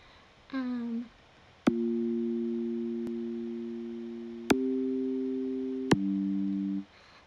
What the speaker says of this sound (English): It's a sine and a saw with a little bit of pitch and cutoff modulation on it.